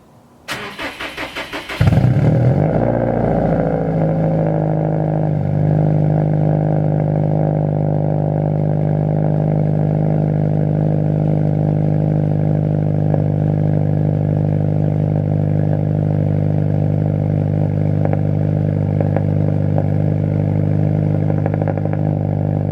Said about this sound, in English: Let's get a little cold start before we exit this video, just so you can hear how loud this thing is.